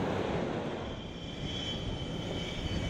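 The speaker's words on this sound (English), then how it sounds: "a fighter jet thundered toward the deck, its tail hook poised" A fighter jet roars in toward an aircraft carrier deck for an arrested landing with its tail hook down, a loud, steady jet thunder with broad rumble sustained throughout and no voices.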